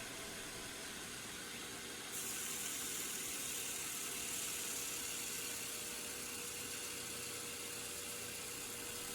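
A grinder works a steel knife blade with a continuous, steady rushing hiss, growing a little brighter and harsher partway through as more pressure meets the metal.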